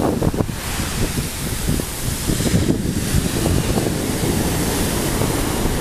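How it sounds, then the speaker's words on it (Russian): Steady wind gusting across Lamai Beach on Koh Samui, buffeting the microphone with a constant low rumble and a faint wash of surf beneath. "Немножко более здесь ветрено,"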